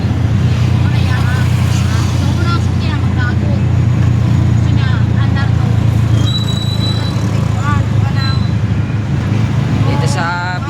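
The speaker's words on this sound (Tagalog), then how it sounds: "Traffic dire." Steady road traffic rumble with passing motor vehicles and occasional horn-like tones, continuous and loud throughout, with people talking over it at times.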